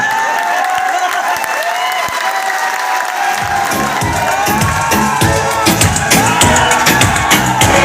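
A large crowd at a motivational business event breaks into loud applause and cheering, building from steady clapping into a fuller roar with whoops.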